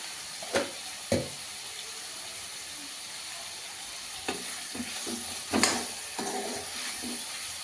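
Chicken pieces frying in oil with turmeric in a pan for biryani: a steady soft sizzle broken by several sharp stirring scrapes and clatters, close and moderately loud.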